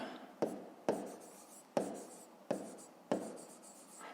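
Pen writing on paper at a school maths exercise, five separate scratchy strokes each starting with a tap and trailing off, close and faint, with no talk over them.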